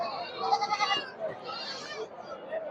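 Goats bleating repeatedly at a Sunday goat market, wavering calls overlapping close by amid crowd chatter and people talking.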